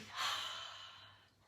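A single soft breath during a Pilates mat exercise, a gentle airy inhale-exhale swelling briefly then fading, close and quiet, with no talking.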